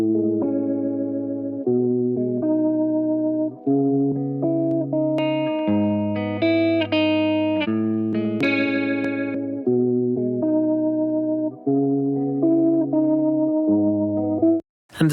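A full pop track mix passed through a Studio D chorus widening bus plays continuously, with sustained layered synth and guitar chords, shimmering high melodic lines and a wide, effected sound that cuts off abruptly at the end.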